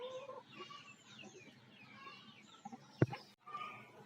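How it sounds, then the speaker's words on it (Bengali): A red desi hen clucks during a Ranikhet vaccination, giving soft, close, broken clucks with a sharp knock partway through. "এই যে আমাদের লাল মুরগি।"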